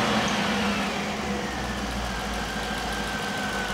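A Rover V8 4.6 engine with a Piper cam idles steadily after starting, a smooth, even mid-pitched rumble with no voices.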